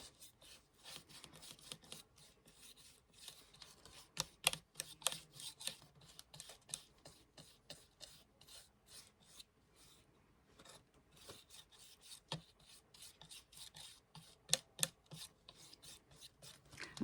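A wooden cross is being sanded by hand. Quiet, close rasping strokes repeat in an irregular rhythm with no voices.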